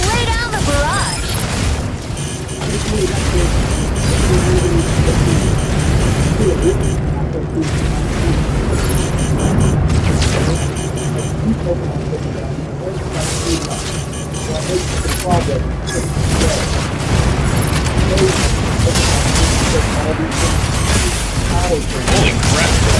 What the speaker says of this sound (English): About to lay down the barrage!